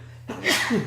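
A single quick sneeze bursts out after a short quiet lead-in, sharp and close, over a faint low hum.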